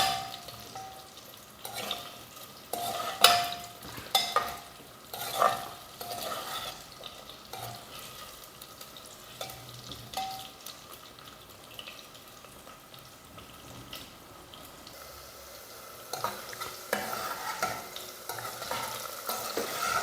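Bitter gourd pieces frying in hot oil while being stirred in a pan, a steady soft sizzle broken by scattered scraping and clinking stirs, with no talking.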